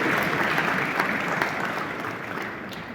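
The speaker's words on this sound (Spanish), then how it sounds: "A la gloria de Dios, aplaude fuerte a Él." A church congregation applauding loudly, a dense, continuous roar of many hands clapping that holds steady for a few seconds and fades slightly toward the end.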